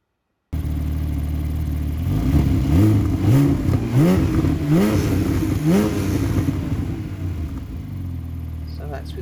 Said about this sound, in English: So that's with the sports exhaust off.